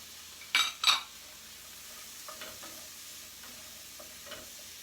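Chopped cherry tomatoes hit a hot pan for champagne chicken, giving a soft, low sizzle with two sharp clattering bursts early on and a few light pan taps afterward.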